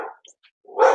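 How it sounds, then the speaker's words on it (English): A dog barks at a coat hanging on a coat rack indoors, with a short bark at the start, a brief pause, then another louder bark close by. "my dog is gosh. barking at my coat on the coat rack right now"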